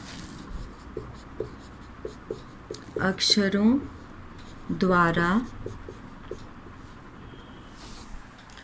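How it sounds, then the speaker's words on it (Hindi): Chalk or marker strokes scratch and tap on a board during a Hindi class, faint and irregular, while someone speaks in two short bursts over them. "तो इसमें हम लोग संक्षेप में लिखेंगे"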